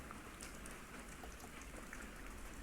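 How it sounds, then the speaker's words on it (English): Steady rain falls across the whole stretch, a dense hiss of drops spattering on surfaces with no letup, moderately loud and close, alone with no voices. "The rain began to pick up."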